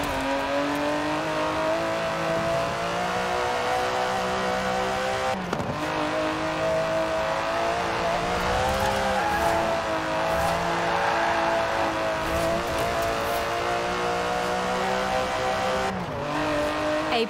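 In the Forza Horizon 4 racing game, an Aston Martin DB11 with a 5.2-litre twin-turbo V12 pulls hard, its smooth engine tone climbing through the gears with brief dips at each shift, loud and close throughout.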